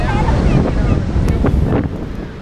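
Heavy, steady roar of Niagara Falls water, a broad rushing wash with wind buffeting the microphone, loud and continuous throughout.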